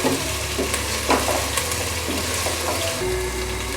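An ingredient frying together with onions for beef yakhni pulao, a steady sizzle with occasional scraping stirs of a spoon in the pot, and a low hum underneath.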